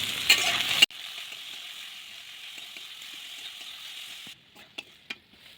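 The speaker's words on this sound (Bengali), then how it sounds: "তেল গরম হয়ে গেছে, দিয়ে দেবো কেটে রাখা পেঁয়াজগুলো" Chopped onions hit hot mustard oil with a loud, bright sizzle for under a second, then settle into a steady, softer frying hiss, followed near the end by a few light scrapes and taps of stirring.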